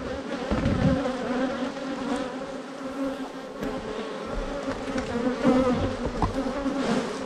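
Honey bees buzzing around a spring beehive, a dense continuous hum of many insects with individual bees droning close past, steady and moderately loud without talk.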